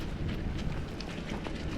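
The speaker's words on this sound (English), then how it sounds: "As you can see, it's raining, so everything is nice and muddy and slippery." Steady rain falls outdoors at a muddy, slippery site where vertical spindle railing is being installed, a continuous broadband hiss with faint scattered drop ticks, unbroken and even throughout.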